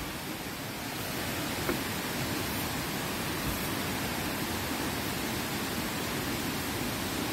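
Cascades of Tad Sae waterfall outside Luang Prabang, Laos, pour in a continuous, dense rushing roar that stays steady and close throughout, with no talking.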